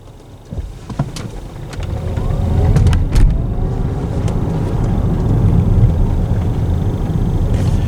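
Interior road noise builds as a 2022 MG Marvel R electric car accelerates hard, with a steady low rumble and rising whir, plus a few clicks and knocks early on.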